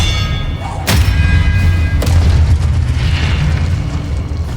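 An Expelliarmus spell is cast in a Hogwarts Legacy wand duel, a loud booming impact with a sharp crack followed by a second thump over a low, rumbling sustained background.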